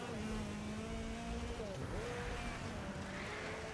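Rallycross car engine in a racing video game drones steadily at high revs, with a brief dip and rise in pitch at a gear shift, continuous and fairly close.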